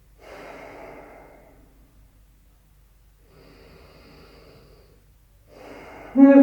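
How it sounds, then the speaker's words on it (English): Slow, audible breaths during a relaxing yoga stretch: three long airy exhales spaced a couple of seconds apart, close and soft, with a sharper snort-like breath at the end. "Let's take a few breaths here to relax."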